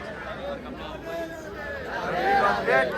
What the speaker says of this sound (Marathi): महाराजांचं दर्शन झाल्यानंतर गर्दी